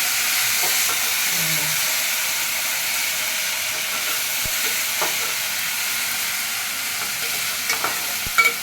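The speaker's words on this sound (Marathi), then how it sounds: "लसूणचा टेस्ट मरेपर्यंत चांगलं भुजून जा." Ginger, garlic and chili paste frying in a pan, a constant soft sizzling hiss with a few faint clicks of stirring, no voices.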